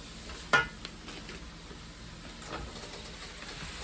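Seasoned ground turkey stirred in a pot, with a clack of the utensil against the pot and soft low mushing and scraping under a faint steady hum.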